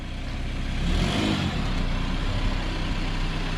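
A Saab 9-5 with 200,000 miles and unresolved faults accelerates on the gas, its engine giving a steady, close, loud roar that holds throughout with no talk over it.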